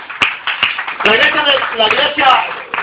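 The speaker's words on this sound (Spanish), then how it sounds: "Damos un aplauso." A church congregation claps in a few sharp, separate claps before a short burst of close applause, with voices mixed in.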